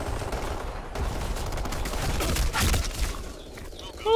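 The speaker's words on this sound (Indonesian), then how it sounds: "Minigun." A minigun fires in the online shooter BlackSquad amid a chaotic firefight, with rapid gunfire bursts and booms at moderate loudness and a sharp swell at the very end.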